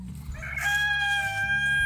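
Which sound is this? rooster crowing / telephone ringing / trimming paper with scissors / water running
rooster crowing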